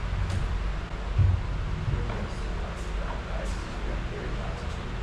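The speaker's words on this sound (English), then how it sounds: "It's pretty windy today, right?" Strong wind buffets and rumbles across the microphone in low, steady gusts, with faint distant voices underneath, on the west coast of Oʻahu.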